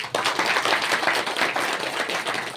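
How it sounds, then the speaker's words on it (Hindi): An audience at a motivational speech camp in Morbi, Gujarat, claps together in a dense, fairly even burst lasting a couple of seconds, heard alone with no talking. "तो ताली बजाओ"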